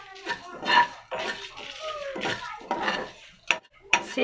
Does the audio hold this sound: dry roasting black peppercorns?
yes